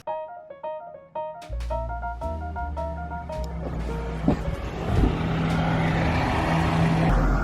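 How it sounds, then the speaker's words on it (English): Passing cars outside an open window rumble and swell steadily, loud road traffic building over a few seconds near a student's room during exam week in Cambridge. "I want to have the windows open, but the cars outside are so loud."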